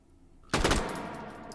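A single loud, sharp shot from a Beretta Model 38 submachine gun in the H3VR virtual reality game, bursting out of near silence and trailing into a lingering decay.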